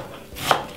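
A knife chops through a red onion on a board, one sharp close chop in an otherwise quiet moment.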